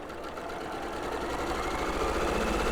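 A sewing machine runs steadily while stitching Hoffman batik fabric, a continuous close mechanical whir that builds slightly in loudness without pause.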